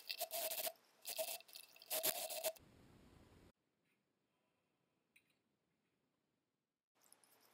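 Water rinsing solid cedar soap trays: a few loud, hissing bursts of splashing spray in the first seconds, a brief softer rush, then near silence with only faint small sounds.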